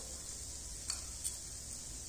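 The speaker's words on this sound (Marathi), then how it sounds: "ते पण आपण छान असं फ्राय करून घेणार आहोत." Ground roasted peanut powder fries in a pan over medium heat for a brinjal sabzi, making a faint, even hiss with a couple of light clicks from the pan.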